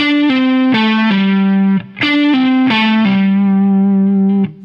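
A distorted electric guitar plays a short blues rock phrase of quick descending notes with pull-offs, some sliding smoothly into the next, loud and close with no talking.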